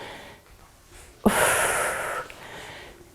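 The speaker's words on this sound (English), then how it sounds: "big breath in, blow it all out" During a home workout for women over 50, a single forceful breath is blown out close to the mic, a breathy rush lasting about a second against quiet room tone.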